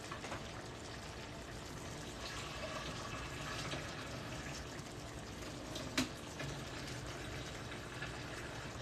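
Starchy water left from boiling potatoes pours out of a pot, a steady close splashing trickle running for several seconds with a small clunk partway through.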